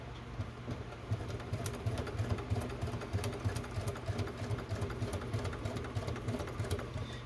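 Sewing machine running steadily with a fast, even mechanical rattle as it top stitches a clutch in blue thread, close and continuous with no talking.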